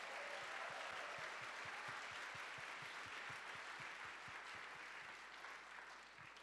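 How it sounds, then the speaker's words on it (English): Audience applause for startup presenters at a university demo day, a steady, fairly distant wash of clapping that fades slightly toward the end, with a faint low thumping underneath. "let's give one more round of applause for all the startups who presented tonight"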